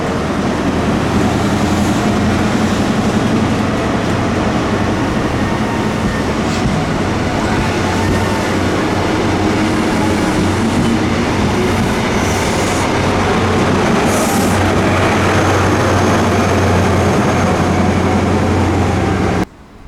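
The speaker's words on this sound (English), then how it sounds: "That's the train I was on, and it's now going to Penzance." A Great Western train pulls out of Par station in Cornwall, heading for Penzance: a loud, steady low rumble of wheels and engine, with a rhythmic rail clatter and a brief squeal, continuing for the whole stretch.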